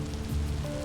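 Rain falls in Vintage Story 1.18 as a dense, steady patter with a low rumble under it. It is brief, continuous and moderately loud, and no voices are heard.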